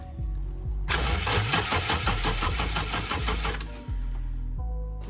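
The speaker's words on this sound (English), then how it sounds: "so I did have a crank no start problem" A Nissan S13 engine cranks steadily with a rapid chugging rhythm for about three seconds, then stops without catching, with no fuel pump priming heard; close and fairly loud.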